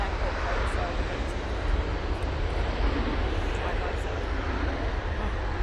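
An Air Canada jet airliner at Manchester Airport gives off a constant loud roar of engine noise, broad and steady throughout, with faint talk mixed into the din.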